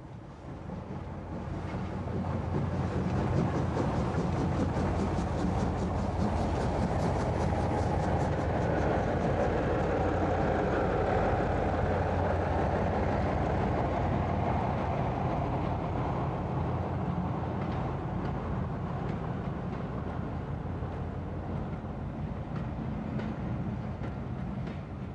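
An LNER steam locomotive, standing in for Union of South Africa in 1991, hauls a northbound train out of Marylebone with a loud, steady rumbling roar of engine and rolling stock that holds for the whole stretch, with no talking.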